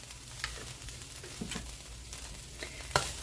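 Red pepper flakes heating in a pan give a steady, faint sizzle and crackle, with a few brief louder pops and stirring scrapes across the short stretch, no voices.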